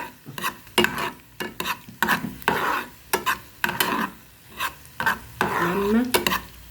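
A pan of shallow oil with a piece of fat frying as it is stirred, giving repeated scraping and clattering strokes of a utensil against the pan over a soft sizzle, close and fairly loud.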